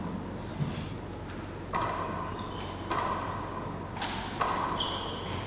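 Ball struck during a women's 40x20 handball final, heard as several sharp, distinct smacks spaced about a second apart that echo in an indoor court over steady crowd murmur.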